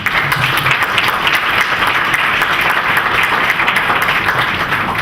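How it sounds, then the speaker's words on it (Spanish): An audience at a Mexico City public forum bursts into loud, sustained applause, many hands clapping densely and evenly for the whole stretch with no gaps. "un fuerte aplauso"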